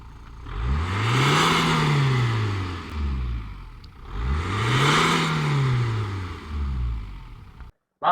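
A Fiat Doblo engine runs after an antifreeze change, revving up and settling twice in smooth rising-and-falling sweeps, close and loud, before cutting off abruptly near the end.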